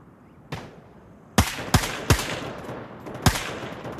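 Gunfire in the VR shooter game Gun Raiders: a faint early shot, then four sharp, loud gunshots in an uneven rhythm with ringing tails, and no talking.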